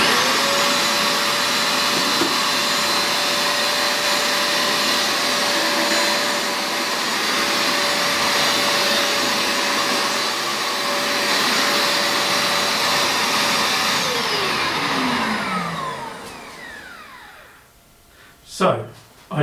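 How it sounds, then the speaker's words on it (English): A Bissell Lift Off carpet cleaner runs over carpet with a loud, steady motor roar held close for most of the time, then winds down and stops, followed by a couple of brief knocks. "So I did one pass forward and one pass back with the trigger pulled, and then I simply passed backwards and forwards slowly, letting the vacuum do its work"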